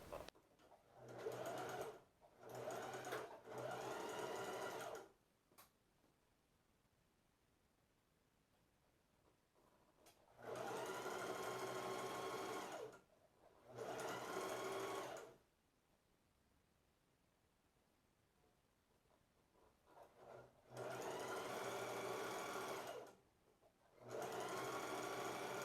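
A sewing machine sews a straight seam on a peplum blouse in repeated close bursts, running a few seconds at a time with quiet gaps between the runs.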